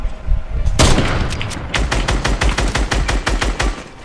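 Rapid bursts of gunfire in a shooter video game, loud and close, with a sharp opening shot followed by a quick run of evenly spaced rounds.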